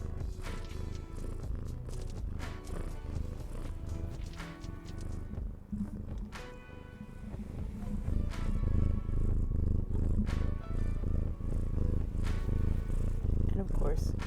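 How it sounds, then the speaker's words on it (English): A cat's purr rumbles low and continuous close to the microphone, strengthening in the second half, with a person talking over it at times. "It's time for purrs."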